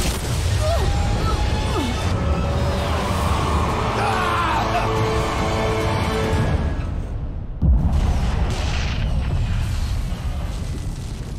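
Fuel tanks blowing up after being shot in the Bulletstorm shooter game, heavy crashing blasts and rumbling booms with debris and mechanical clatter, one sharp explosion standing out near the end, loud and close.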